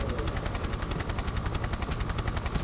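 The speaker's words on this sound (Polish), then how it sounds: "O, ten helikopterek to nasz? Czyżby na nas tam oczekiwał?" Helicopter in the video game Tomb Raider III, a steady, loud rotor chop with a rapid pulsing beat that fills the whole stretch, with no talking over it.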